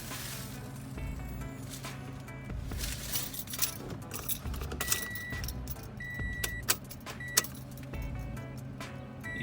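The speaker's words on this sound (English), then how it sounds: "So if I turn on the ignition, let's see what is the difference and what happens" Car keys jangle and clink near the ignition of a Ford Fusion as it is switched on, with scattered metallic chinks and rattles over a low steady cabin hum, fairly quiet and close, no talking.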